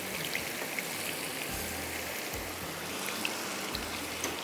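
Fish pieces go into a simmering masala gravy, giving a steady, soft sizzling and bubbling hiss close by, with faint low thumps underneath and no talking.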